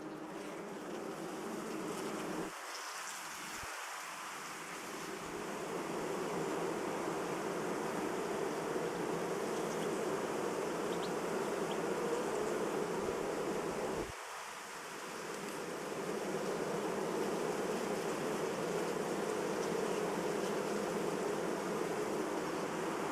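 Honeybees buzz steadily as a colony is moved into a new hive at an apiary, a dense continuous hum broken by a couple of brief handling thumps.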